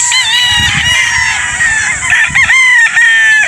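Game-farm chickens in Batangas squawk and crow loudly and close by, drawn-out calls with wavering pitch rising and falling over a few seconds.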